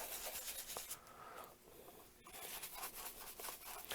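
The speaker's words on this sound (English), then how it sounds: "just going to clean them up real good here" Brush scrubbing woven leather Mezlan oxford shoes during cleaning, a steady close rubbing rasp with a short pause midway, no talk.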